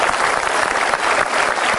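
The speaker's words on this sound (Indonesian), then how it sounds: "Berikan tepuk tangan." A studio audience at an Indonesian television talk show claps in a brief, dense, steady burst of applause with no talking.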